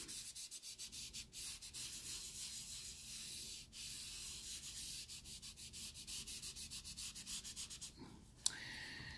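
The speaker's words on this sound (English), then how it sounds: "I can smudge it again." Pencil drawing smudged by rubbing on paper: a close, quiet, rhythmic back-and-forth scrubbing that repeats steadily for several seconds, ending with a couple of light taps.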